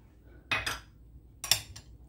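A whisk scrapes and clinks against a pan while butter and flour are mixed for a white sauce, two short quiet bursts of metal rattling against a near-silent background.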